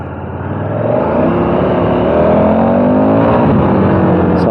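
A 2021 KTM 1290 Super Adventure S motorcycle on grippier tyres accelerates hard in a loud, steady engine roar whose pitch climbs as it pulls, close and continuous without talk.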